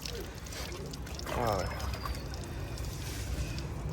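Water pouring into a tank at a roadside hotel, a soft splashing trickle with a brief louder gush midway, under low background noise.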